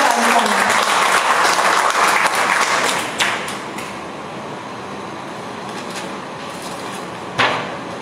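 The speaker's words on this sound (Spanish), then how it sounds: "Un aplauso de nueva cuenta a" Audience applause at a poetry event in a library, a loud round of clapping for about three seconds that thins to scattered claps and room noise, with a final sharp clap near the end.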